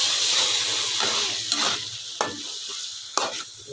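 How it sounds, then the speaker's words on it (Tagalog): Sauce being added to chicken spaghetti in a pan, a close steady sizzle with a few sharp stirring scrapes and clanks against the pan. "so, ilalagay na natin ang sauce."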